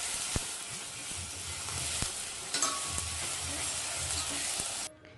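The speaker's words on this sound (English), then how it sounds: "Next add the finely chopped onions and cook till the onions are translucent." Finely chopped onions sizzle and fry with cumin seeds in a hot pan, a continuous close hiss broken by stirring scrapes and taps, stopping abruptly near the end.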